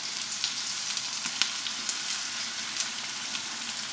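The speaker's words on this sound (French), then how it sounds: "On va faire réduire l'oignon et on va y rajouter le riz." Onion and rice frying in a pan, a steady bright sizzle with frequent small crackles and pops, close and continuous with no voices.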